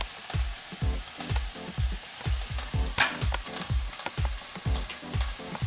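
Green peas and chopped tomatoes frying for pav bhaji, with a steady sizzle under repeated rhythmic stirring or scraping in the pan, close and fairly loud with no talking.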